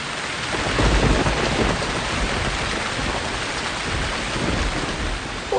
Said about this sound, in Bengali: এবার দারুণ বৃষ্টি নেমেছে পাহাড়ে